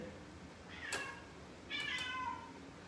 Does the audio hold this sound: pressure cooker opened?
no